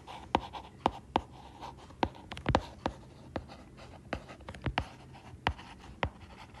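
Pen strokes on paper as a solution set is written out by hand for a Class 9 maths exercise, a run of sharp, close ticks and scratches in an irregular rhythm, with no talking.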